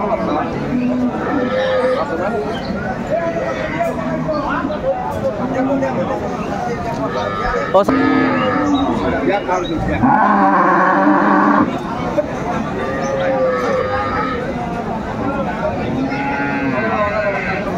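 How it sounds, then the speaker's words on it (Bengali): Dairy cows and calves of improved breeds at a busy rural cattle market in Dinajpur, several loud moos rising over constant crowd chatter and people talking nearby. "কেমন দামে উন্নত জাতের দুধের গাভী এবং বাছুর গরুগুলো বেচা কেনা হচ্ছে"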